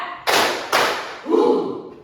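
Students in a classroom clap in unison during a counted clapping routine, three crisp group claps spaced roughly half a second apart, the last one softer and duller.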